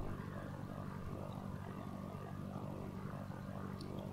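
A propeller airplane accelerating down the runway for takeoff in the flight simulator game Sierra ProPilot '99, a steady droning engine roar held at even loudness throughout, alone with no voices.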